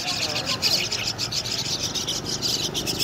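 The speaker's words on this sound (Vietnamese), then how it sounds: "Một lồng chim sáo người ta bán rất là nhiều bạn ạ." A cage packed with myna birds for sale at a market keeps up a steady, busy chorus of chirps and whistles, with voices in the background.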